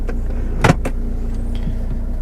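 Power window motor whirring briefly on a cheap used French car with a 5-speed manual, a single short burst close by over a steady low idle hum, followed by fainter clicks.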